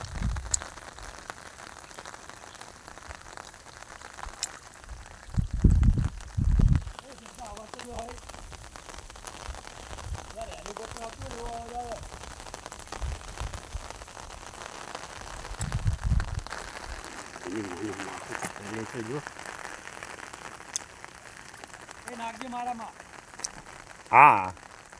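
Rain falls steadily and fairly softly on surfaces outdoors for the whole stretch, while people talk intermittently over it.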